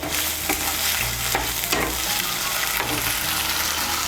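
Chopped tomato and turmeric powder stirred and frying in a pan for a Bengali fish curry, a loud continuous sizzle with repeated scraping strokes of a spatula close by.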